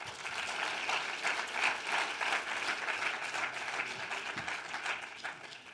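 An audience at the Boursorama Investor Awards ceremony applauds, a dense even wash of many clapping hands that holds steady for several seconds, heard from within the room with no voices over it.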